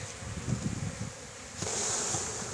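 Honeybees are shaken off a hive frame into a box, making a dense close buzzing with soft knocks early on, then a louder, brighter swarm hum after the shake.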